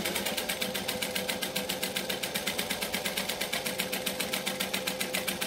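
A sewing machine top stitching a wallet, running at an even pace with a steady, fast mechanical rhythm of needle strokes, close and continuous without talk.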